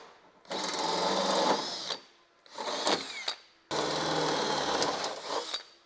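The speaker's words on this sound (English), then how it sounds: "we're going to put a hole saw into this, and it's going to allow these spacers to go" A hole saw grinds through metal to make room for GR86 wing spacers, running in three loud, close bursts with short pauses between them, the tone whining steadily through each cut.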